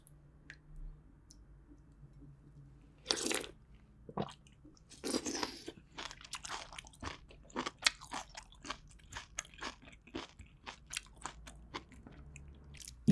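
Green onion from a Korean pork back-bone stew is chewed close to the mic, with a loud crunchy bite followed by a long run of soft wet chewing clicks and no speech.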